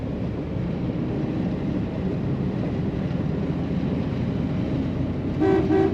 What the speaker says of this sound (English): The factory horn even works.